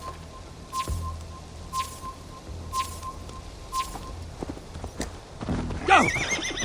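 Horse hoofbeats thudding at an even gallop in Assassin's Creed Valhalla during a race, with a beeping tone ticking over them before a sharp whinny breaks out near the end, no talk.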